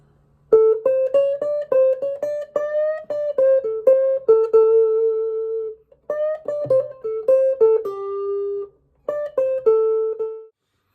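Electric guitar plays an early blues single-note lead in second position, a clean, close run of plucked notes with bends and sustained tones in two phrases separated by a brief pause.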